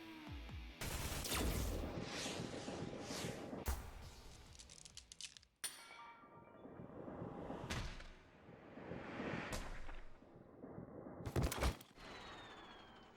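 Gunfire from the video game AI: The Somnium Files, with sharp bursts of shots and crashes separated by short silences and gaps, fairly quiet overall.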